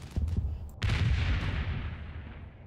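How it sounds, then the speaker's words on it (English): A tank gun opens fire in the WWII Normandy wargame Combat Mission, a sharp loud boom that rolls into a long, decaying rumble, with softer distant thuds before it. "The center tank begins opening fire on suspected German positions from its position of overwatch"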